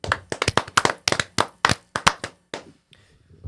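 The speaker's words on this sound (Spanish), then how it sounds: "Un aplauso" Sharp, distinct hand claps ring out up close for about two and a half seconds, a dense flurry of individual slaps that thins into a few scattered claps at the end, as a small group applauds a host of a Spanish-language talk show.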